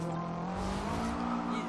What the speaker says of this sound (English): Those Volkswagen engines, you know, relatively quiet engines, man.